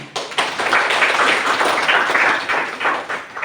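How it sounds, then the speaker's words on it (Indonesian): A class claps in a steady burst lasting a few seconds, with dense, close hand claps and slight swells in loudness. "Oke, sip, kita tepuk tangan."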